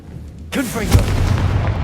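A Confringo blasting spell explodes in Hogwarts Legacy, a sudden loud booming burst with crackling debris that rolls on and rumbles after the initial blast.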